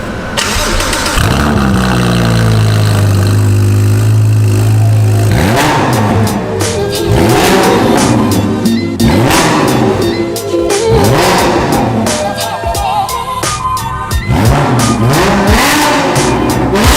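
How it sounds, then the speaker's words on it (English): A car with a Novitec exhaust starting up and revving hard, loud and close, with a rising whine, then repeated sharp throttle blips and crackling pops. "It sounds so good, and straight through Novitec exhaust as well."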